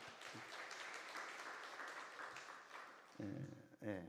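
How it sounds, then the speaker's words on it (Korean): A church congregation applauds during a Korean Sunday thanksgiving service, a faint, distant wash of clapping that runs steadily before a voice begins speaking near the end. "박수 한번 칩시다."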